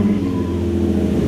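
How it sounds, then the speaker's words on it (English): A race car engine idles and revs after being cranked, a loud, steady, deep rumble with a slight rise in pitch, heard close up and alone. "Crank your engine."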